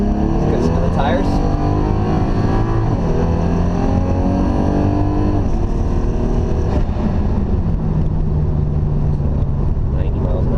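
A turbocharged 2JZ-GE engine in a 1999 Lexus GS300 roars loudly under hard acceleration, its pitch climbing through gears with a downshift, heard from inside the car while a person talks over it.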